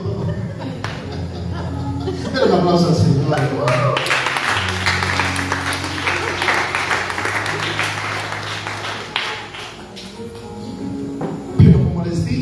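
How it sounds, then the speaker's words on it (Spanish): A church congregation applauds, with a burst of clapping and cheering rising after a couple of seconds and carrying on under singing and talk before tapering off. "Pero un aplauso al Señor"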